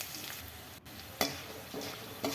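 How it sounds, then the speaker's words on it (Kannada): Chillies roast in hot oil for oggarane rice with a faint, steady sizzle, broken by a few brief scraping stirs, close but quiet, with no talking. "ಮೆಣಸಿನ್ಕಾಯಿ ಚೆನ್ನಾಗಿ ಎಣ್ಣೆಯಲ್ಲಿ ರೋಸ್ಟ್ ಆಗುತ್ತೆ"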